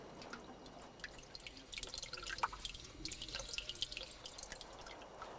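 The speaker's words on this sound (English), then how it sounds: "there is water, the elixir of life, in miraculous pools that are fed from underground springs" Water dripping and trickling into a desert pool fed by underground springs, a close, irregular patter of drips that grows busier midway, with no voices.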